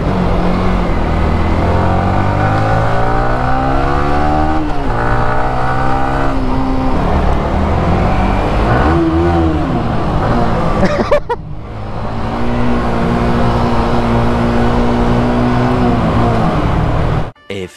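A Honda Bird motorcycle's engine whines loud and close at full speed, its pitch rising and falling as it accelerates and shifts. The sound is steady and strong for most of the run, then cuts off abruptly at the end.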